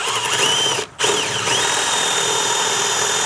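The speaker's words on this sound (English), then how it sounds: "I need to drill out through this." A power drill bores a 13mm hole through wood, whining loudly and steadily, with one short pause before it spins up again and keeps cutting.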